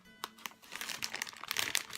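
A crafting knife cuts open a plastic mailer package holding a t-shirt, producing close, irregular crinkling and crackling of plastic that grows busier toward the end.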